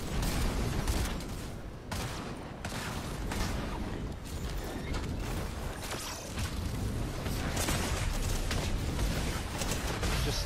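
Pistol gunfire in Fortnite, a rapid series of sharp shots mixed with clattering mechanisms and other weapons in a busy, dense firefight, fairly steady throughout without talk.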